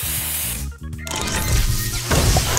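A spray booster effect from the mobile puzzle game Match Masters bursts out as a loud hissing whoosh after a short tonal jingle, followed by crunchy impact bursts, with no speech.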